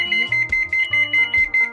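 A transit-style school bus alarm beeps shrilly and repeatedly in quick, even pulses after the bus is turned off, close and clear, with low mechanical tones underneath.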